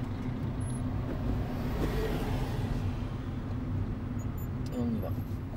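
A car in moving traffic shifts into second gear and pulls away, its engine a continuous low rumble that rises slightly in revs, with people talking inside the car.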